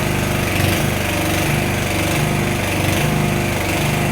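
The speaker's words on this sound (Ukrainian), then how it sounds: "Запустився генератор." A homemade inverter generator built around a GAB-1-P/30 unit runs with a steady, loud small-engine drone, buzzing throughout with a low harmonic hum and no talk.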